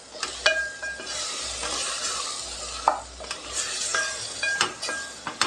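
Spoon stirring chili, turmeric and coriander powders into a sizzling onion curry base for spicy chicken kulambu, with steady frying hiss and intermittent scraping strokes against the pan.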